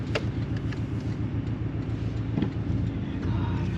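A new Porsche being driven on the road, with a steady low engine and road rumble heard from inside the cabin, continuous and even throughout, with a few faint knocks and no clear speech.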